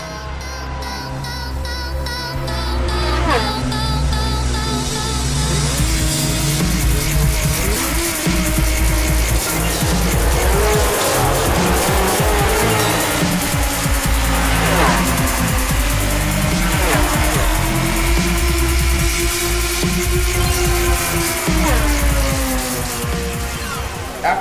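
Racing engines from MotoGP motorcycles in the video game MotoGP Championship Quest, a loud continuous roar that rises and falls with revving, gear shifts and tire squeal across the full length.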